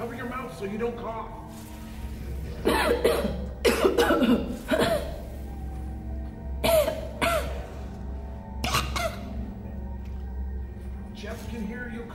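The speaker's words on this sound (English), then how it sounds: "Jeff can hear you coughing." Repeated coughing in the video game Half-Life: Alyx, several harsh, close bursts spaced irregularly across the stretch, with throat-clearing rasps over a steady low game ambience.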